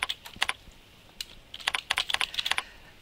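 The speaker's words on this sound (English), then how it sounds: "I type in the name of the rep." A name typed on a computer keyboard: close, crisp key clicks in quick uneven runs, a short pause, then a denser flurry of keystrokes.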